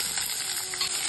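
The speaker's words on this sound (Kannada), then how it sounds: "ಅದಕ್ಕೆ ಈರುಳ್ಳಿ ಆಡ್ ಮಾಡ್ತಾ ಇದ್ದೀನಿ." Sliced onion dropped into browned chana dal frying in hot oil, a steady close sizzle with soft crackle filling the short moment, no voices.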